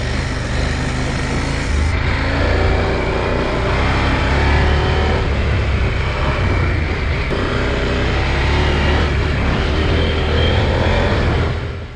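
A KTM 790 Adventure motorcycle rides over rocky terrain with a loud, continuous engine drone and heavy wind rush, and the engine pitch rises and falls a little as it climbs over the rough ground.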